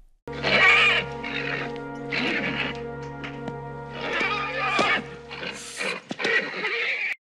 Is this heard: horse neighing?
yes